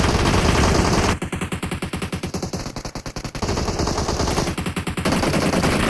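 Sustained automatic gunfire in PUBG Mobile, dense rapid bursts of loud shots rattling continuously with brief shifts in rhythm, no speech.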